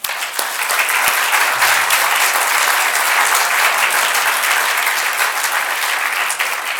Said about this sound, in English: And let's give a warm welcome and a round of applause for Robert Gardner.